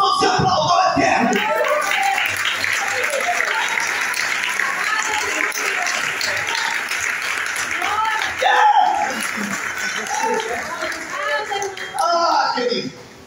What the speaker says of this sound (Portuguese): Se você crê, levanta as suas mãos e aplauda o Eterno.